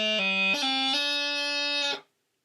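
A bagpipe chanter plays a throw on D, dropping from A to a low G and rising through quick grace notes to a sustained bright D, loud and near, cutting off abruptly.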